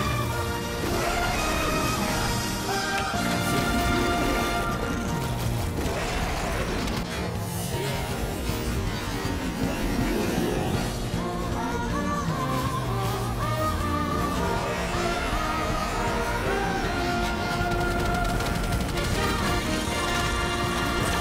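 Dense, loud barrage of combat effects from a Blaster's napalm shell and gravity explosion skills in Lost Ark, layered blasts and crashes running continuously over game music.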